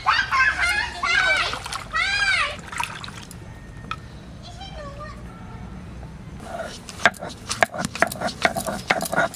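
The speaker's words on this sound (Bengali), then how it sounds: "আদা রসুন ধুয়ে নেব" Ginger and garlic are washed in water in a home kitchen while a duck and new-potato dish is prepared, with splashing and sloshing heard under women's and children's voices, bursts of water between pauses.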